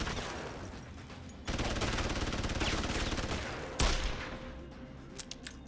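A Magnum revolver fires in Deus Ex Human Revolution, heavy booming shots landing amid a dense, sustained wash of loud gunfire and noise, with a sharp blast standing out near the end.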